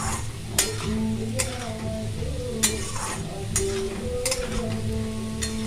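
Potatoes for Bengali aloo posto sizzle steadily in a pan, with repeated scraping stirs and occasional light clinks of a utensil against the metal, close and continuous.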